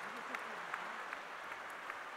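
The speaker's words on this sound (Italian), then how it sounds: "Quindi un grande applauso a tutti, perché se siamo qui ce lo siamo meritati in tanti." Applause from a crowd at the closing ceremony of a European Sport Town year in Alassio, a steady moderately quiet patter of many hands clapping with a few sharper claps standing out.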